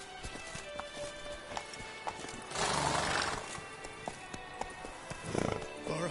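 Roach the horse from The Witcher, clip-clopping hooves trotting along, then a loud drawn-out neigh in the middle and a shorter snort or whinny near the end, over quiet game ambience.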